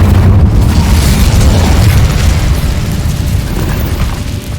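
The Incendio fire spell in Hogwarts Legacy goes off as a loud, roaring blast, a dense rumbling burst of flame that holds strong and slowly fades over several seconds.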